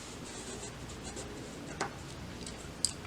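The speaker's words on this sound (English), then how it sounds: "Unfold it and then just mark your center." A marker scratches a short stroke across fabric to mark its center, a soft brief rub close by against a low steady background hiss.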